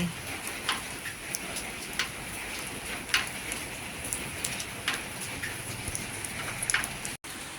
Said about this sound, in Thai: โดนฝนนิดๆหน่อย ๆคงจะไม่เป็นไร